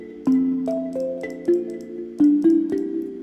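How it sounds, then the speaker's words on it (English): CloudRum steel tongue drum software instrument in mute mode, playing a short sequence of about seven dampened, plucky metallic notes at a moderate tempo, each with a soft attack and quick decay, close and clear. "This is a steel tongue drum"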